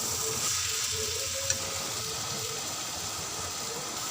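Bottle gourd and egg frying together in a pan give off a steady, moderate sizzle with a soft hiss throughout, close by and without any talking.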